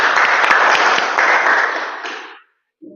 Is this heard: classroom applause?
yes